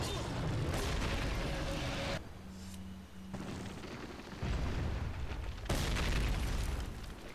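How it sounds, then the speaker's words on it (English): Grenades detonate in the video game Resident Evil 4. Several heavy booming blasts come in distinct bursts with short quieter gaps between them. "I am going to go ahead and use some grenades now"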